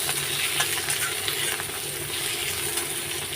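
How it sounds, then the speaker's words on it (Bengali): Garlic, onion and green chili frying in a pan, a continuous even sizzle with faint stirring clicks, steady and close, without talking. "তো এটা একটু লাল লাল করে ভেজে ভেজে নেব"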